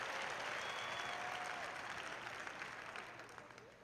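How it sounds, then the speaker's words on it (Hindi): A congregation applauds the Lord during a Hindi-language church sermon, a steady wash of many hands clapping that holds evenly and then tapers off toward the end. "प्रभु के लिए तालियां हो जाए यहाँ पर"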